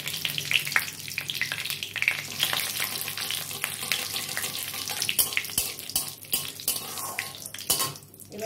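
Bay leaf and dried red chili hitting hot oil for a shrimp and jackfruit curry, a loud, close, crackling sizzle that keeps going with sharp spits and pops throughout and no voices over it.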